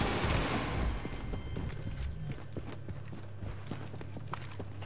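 Gunfire in The Division, a dense burst of shots opening the clip and thinning into scattered, sharper reports over a low steady game rumble, with no talk.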